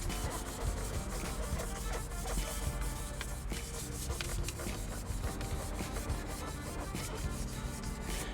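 A piece of automotive interior trim is sanded by hand with 1000 grit sandpaper, a continuous close rasping rub that stays even and dense across the whole stretch.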